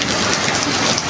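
Steady rain falls in a dense, even hiss that lasts the whole moment, loud and close with no voices or other sounds.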